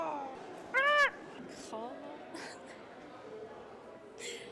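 A person's voice imitates a raptor call, giving one loud, harsh, quavering screech of under half a second, followed by a few fainter throaty squawks over low background noise.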